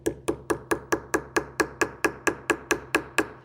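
A hammer taps a metal tube rivet to flare it, fifteen sharp, evenly spaced close metallic blows at a brisk steady pace, each ringing briefly.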